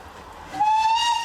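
A steam train whistle sounds loud and close, a sustained clear tone that starts abruptly partway through and holds steadily to the end, with no talk.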